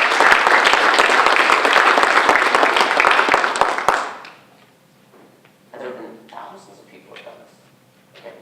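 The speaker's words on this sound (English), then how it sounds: "So we're going to clap for them as well." A crowd at a Joomla Day Florida 2018 conference keynote claps loudly and densely for about four seconds, then stops abruptly, leaving faint voices in a quiet room.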